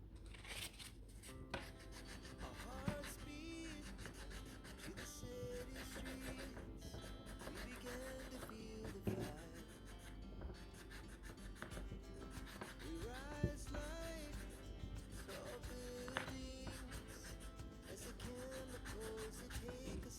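A dented fishing reel spool is rubbed with fine 500-grit sandpaper, giving quiet, close, continuous scratchy rasping strokes with small tonal squeaks and no talk.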